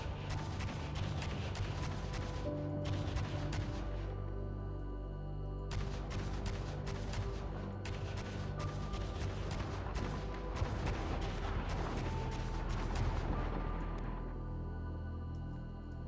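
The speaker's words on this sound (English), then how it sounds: "I'm just shooting down some pirates" Spaceship cannons fire repeatedly at pirate ships in the Star Citizen space game, giving dense, booming bursts of gunfire that run steadily for the whole stretch and swell in loud waves, with no voices.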